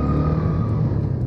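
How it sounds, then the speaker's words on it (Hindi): Suzuki Gixxer SF 250 BS6 motorcycle pulling hard in second gear, a steady loud engine drone with a sustained low rumble and rising tone throughout, no voices. "pickup eight second gear,"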